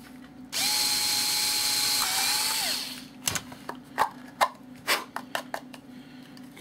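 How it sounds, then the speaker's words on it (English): A power drill whines steadily for about two seconds while boring a hole in a block, then winds down, followed by a series of sharp knocks and taps. "drill our hole"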